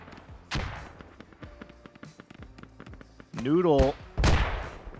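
Mortar impacts and explosions in the military shooter Squad: several sharp, heavy blasts land at irregular moments, the loudest near the end, with a player talking over the action.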